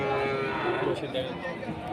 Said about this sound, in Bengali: খামার উপযোগী মহিষ এগুলো সব ইন্ডিয়ান মহিষ